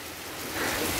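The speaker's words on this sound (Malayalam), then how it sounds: "കനത്ത മഴയാണ് യെസ് എറണാകുളത്ത്" Heavy rain comes down in Ernakulam as a loud, dense hiss that swells slightly toward the end of a brief moment.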